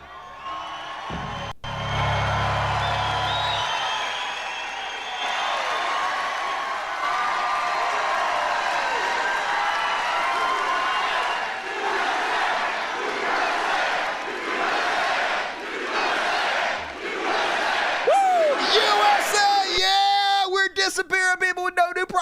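A large crowd at a Trump rally roars and cheers continuously, with whoops and shouts rising over the din before the noise breaks up near the end.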